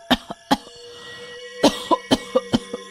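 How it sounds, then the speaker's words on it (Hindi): Repeated harsh coughs in an irregular run of about nine bursts, close and loud, with short pauses between them. "रात को उसे खांसी उठती है।"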